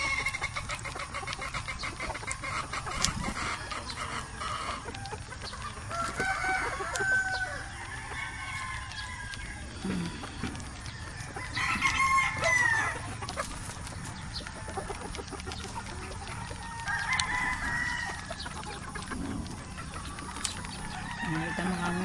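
Chickens cluck, including a black hen, and a rooster crows now and then over a steady outdoor farmyard background, with occasional voices nearby.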